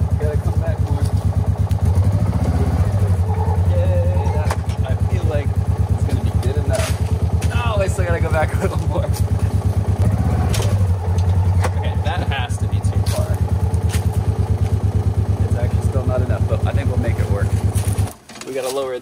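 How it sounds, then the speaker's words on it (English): A Gator utility vehicle driving along farm trails, its engine giving a steady, loud, rumbling drone throughout, with faint clatter over the top and a brief dip near the end; a voice talks over it. "let's hop back in the gator. And we're driving back up to the house."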